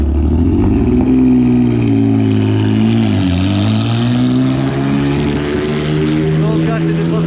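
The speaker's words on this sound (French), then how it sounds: "ça fait plaisir de voir ces autos rouler" Classic racing cars run on the Montlhéry circuit, with a loud, close engine roar whose pitch climbs and dips as the cars accelerate and pass, continuous throughout.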